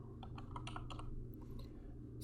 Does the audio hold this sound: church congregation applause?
no